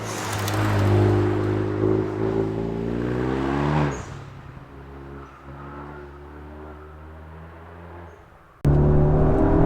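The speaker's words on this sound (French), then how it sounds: "Oh là là, ça pétarade." A Renault Megane 2 RS R26R engine accelerating up through the revs, close and loud, then lifting off into a lower droning run before a sharp burst of power returns near the end, with no voices.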